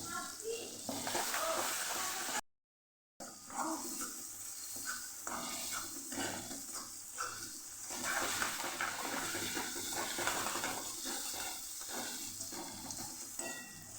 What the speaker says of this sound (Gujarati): ડુંગળી અને લસણને સરસ સાતળવાના